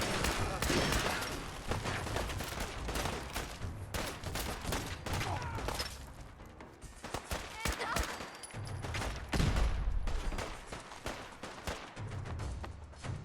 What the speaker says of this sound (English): Automatic assault rifle.